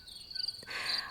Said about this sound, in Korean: 사방에서 귀뚜라미 소리가 들려옵니다